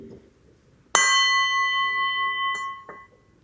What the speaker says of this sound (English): I'll hit the gong again